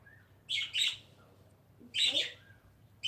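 A pet bird gives bright, close chirps in short bursts, two near the start and two more later, over a quiet indoor background with a faint low hum.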